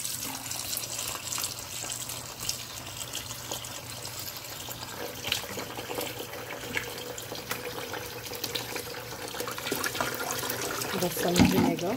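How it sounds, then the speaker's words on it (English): Tap water runs steadily into a kitchen sink while meat is rinsed, a continuous close splashing hiss with small bumps and a louder burst near the end. "I'm going to wash these meat. So I'm going to wash them back."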